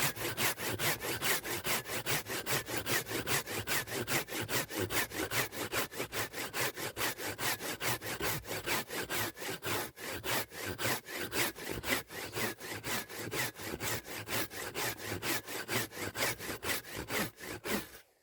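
A hand saw cuts through very hard, dry oak in steady, rapid back-and-forth strokes, loud and close. The rasping rhythm continues alone without pause for about eighteen seconds.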